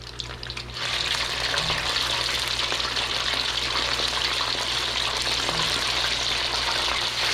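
Chicken fingers deep frying in oil heated to 400 degrees, a dense, loud, continuous bubbling sizzle that swells after a soft start and holds steady close by, with no talking.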